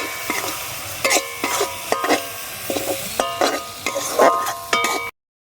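A spice paste of cumin, turmeric, salt and chilli powder mixed with water fries with onion, ginger and garlic, bursts of sizzling and metal ladle clanks arriving in irregular spurts before cutting to silence.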